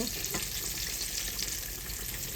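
Breaded green tomatoes fry in a pan of hot oil for old-school Southern fried green tomatoes, giving a steady, close, loud sizzle with an even crackling hiss throughout.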